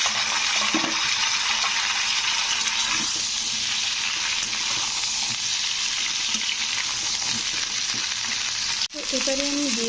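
Ridge gourd pieces fry with potatoes in a pan, giving a steady loud sizzle that holds throughout, with a short stir or clatter near the end.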